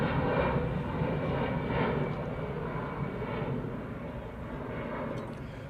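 An EasyJet airliner passes at Manchester Airport, a broad, steady jet roar that stays fairly even and fades slightly toward the end.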